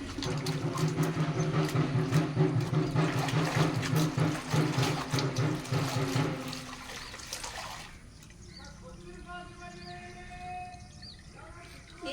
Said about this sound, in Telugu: ఇప్పుడైతే ఇంక నీళ్ళు తీస్తున్నాను